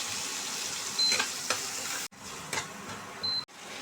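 Boiled garlic going into a frying tomato and spice mixture in hot oil, giving a steady close sizzle with a few soft stirring scrapes and two brief cut-outs.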